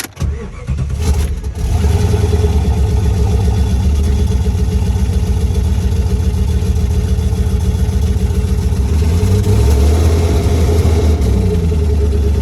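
A V8 Jeep engine catches and then runs steadily at a loud, close idle with a low rumbling pulse, right after its MAP sensor was replaced.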